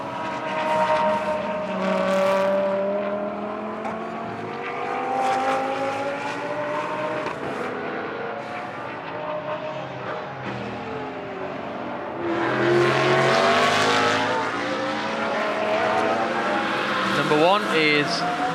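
GT race cars, including a Bentley and a Phoenix Audi, run on a track in Moscow during free practice. Engines whine and rise through the gears with changing pitch as cars pass, swelling louder later, under a commentator's voice.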